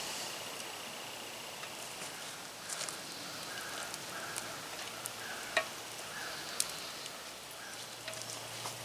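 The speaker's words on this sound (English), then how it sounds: "So we'll get that sauteing and then start building the rest of the sauce." Chicken pieces sautéing in a pan for chicken cacciatore, producing a soft, steady sizzle and crackle with occasional faint pops, fairly quiet and continuous.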